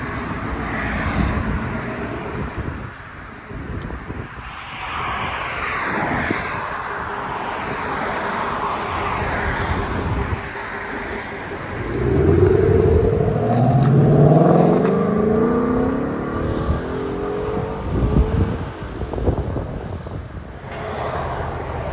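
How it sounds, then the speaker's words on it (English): A 2024 Ford Mustang GT 5.0L V8 with a resonator delete X-pipe revs and rumbles with a deep, throaty exhaust note, swelling louder midway as it accelerates past, with wind noise throughout. "2024 Mustang GT, Resonator Delete X-Pipe."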